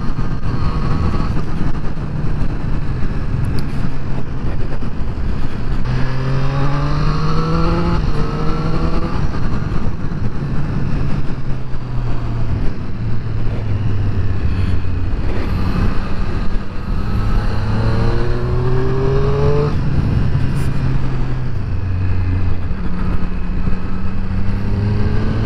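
A Triumph Triple RS motorcycle engine throttled up and down repeatedly, pitch rising and falling in sweeps over a steady rumble, close and loud throughout.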